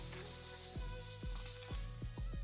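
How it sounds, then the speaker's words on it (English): A rack of lamb sears in a hot pan with a steady, close sizzle and hiss that runs the whole time. A few sharp bursts of spitting rise out of it. No one speaks. "You really want to capture the flavour of the meat by getting a good sear."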